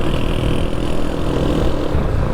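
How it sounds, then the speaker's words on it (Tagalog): A motorcycle on its stock exhaust pipe being revved with rev matching, a steady loud low engine rumble throughout with no talk. "Sarap mag rev match"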